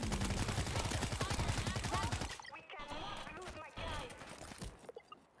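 Rapid automatic gunfire rattles in World War Z for about two seconds, then gives way to quieter game noise with scattered hits and voices in the background.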